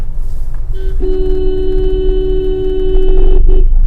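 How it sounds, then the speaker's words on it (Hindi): A car horn honks once in a sustained blast for about two and a half seconds during a driving lesson on a road, loud and close over low engine rumble. "सीधी करो गाड़ी, हॉर्न दो इनको"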